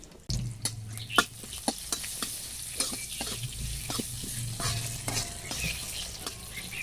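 Black mustard seeds and sesame seeds sizzle and crackle in hot ghee, producing irregular sharp pops and snaps over a low frying hiss, fairly close and alone without talk.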